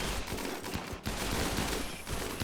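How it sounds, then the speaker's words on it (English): Defensive turrets opening fire together in the video game Rimworld, a dense rattling stream of rapid close shots with brief dips in intensity, continuous for a couple of seconds and free of speech. "And now the other turrets are starting to open up."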